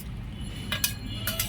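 Fried local fish go into a pot of tomato and potato curry, with a few light metallic clinks of a spoon against the pot over a low background hum, close and brief, with no speech.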